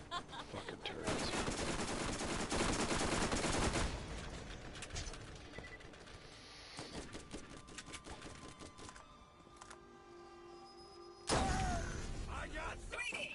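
Turrets in Borderlands fire rapid, dense bursts of gunfire, loud and continuous for several seconds, then thinning to scattered shots and game effects before another heavy burst near the end.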